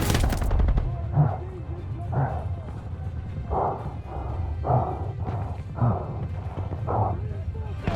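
Rapid gunfire bursts from a Call of Duty: Vanguard battle scene, repeated volleys at a steady pace through the whole stretch, with shouted voices mixed in the background.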